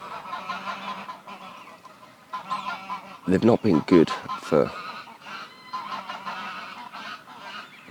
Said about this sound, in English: I have seen gadwalls, widgeons, mallards, coots, moorhens, geese, as you can hear, swans.